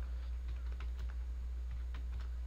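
Light keystrokes on a computer keyboard, a short run of soft, uneven taps over a constant low electrical hum, with no talking.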